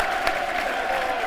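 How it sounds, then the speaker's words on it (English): Football crowd at a Millwall home match roars and claps in a steady, moderately distant wash of noise during a brief moment of play. "that's got the crowd into it"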